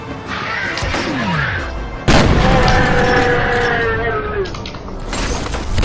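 Gunfire and heavy booms in the F.E.A.R. shooter game, chaotic with shots going off in every direction: a loud blast hits mid-way, followed by sustained rumbling fire and scattered shots, with overlapping game sounds.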